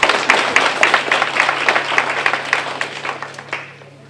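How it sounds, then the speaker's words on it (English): A forum audience applauds Representative Smith with a burst of many hands clapping that stays fairly close and even, then gradually fades and thins out toward the end. "Let's give Representative Smith another round of applause."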